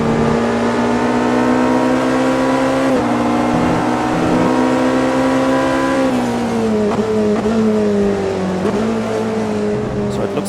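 A high-revving race car engine in the racing game Automobilista 2 drones steadily with a strong harmonic whine, shifting pitch a few times as it changes gear, loud and continuous throughout.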